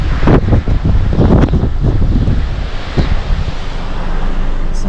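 Strong wind buffets the microphone at Mad Mile beach in Gisborne during Cyclone Vaianu, with loud gusty rumbling and surf roaring steadily beneath it, and no voices.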